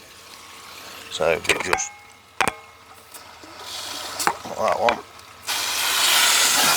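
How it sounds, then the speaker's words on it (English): A garden hose blasts water into a koi pond, a loud, steady rushing spray that swells in near the end after someone speaks briefly between softer splashes. "I can turn it on and it just blasts water into my pond"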